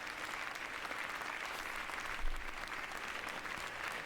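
Steady, dense audience applause at a quiz night, holding at an even level throughout with a brief swell just past the midpoint.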